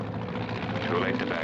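A tow plane's engine, pulling a glider on a tow line, drones in a steady, even roar throughout. A voice is faintly present over it.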